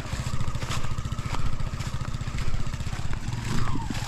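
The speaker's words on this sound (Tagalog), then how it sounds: "Nakakadaan naman yung motor natin." Motorcycle engine running close by on a path through rice paddies, a steady rapid pulsing putter that swells and eases in loudness throughout, with some clatter and no talk over it.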